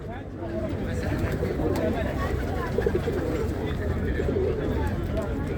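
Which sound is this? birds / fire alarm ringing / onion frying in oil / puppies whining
birds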